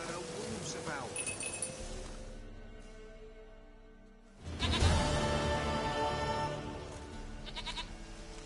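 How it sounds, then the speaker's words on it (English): A goat in a PS4 video game bleats in short wavering cries, with game music and sound effects around it and a louder burst of in-game noise midway. "Goat of mine, dearest, sweetest goat."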